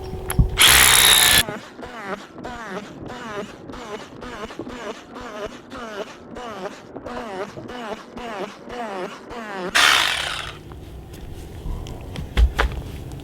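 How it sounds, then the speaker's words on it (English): A power drill bores holes into the ground to install a grounding rod, giving a steady chattering, pulsing whir for several seconds with louder bursts of grinding noise at the start and end. "So what we do is just drill a few more holes."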